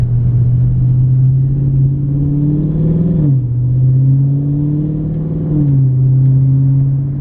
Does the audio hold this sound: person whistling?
no